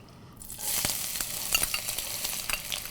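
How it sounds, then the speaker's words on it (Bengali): Chopped onion drops into hot oil in a frying pan while making beef shahi kofta gravy, setting off a sudden loud sizzle that continues steadily alongside scraping stirring sounds, with no talking. "এখানে আমি দিয়ে দিচ্ছি পেঁয়াজ কুচি করে"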